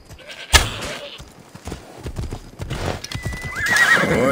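In Assassin's Creed Odyssey, horse hooves clop, a neigh sounds, and a goat bleats near the end, with scattered outdoor game sounds between.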